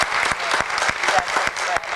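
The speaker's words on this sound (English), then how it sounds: "how about a nice round of applause for Haley, Monica" An audience claps for two special guests, Haley and Monica, from a pets program: a full, lively round of applause with sharp individual claps standing out and some voices underneath.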